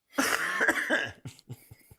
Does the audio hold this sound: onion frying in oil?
no